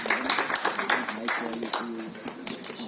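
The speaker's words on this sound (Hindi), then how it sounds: "जोरदार तालियां वरदान सिंह के लिए" Scattered clapping from the audience at a film trailer launch greets a singer taking the stage, brief and uneven while a host's voice talks over it.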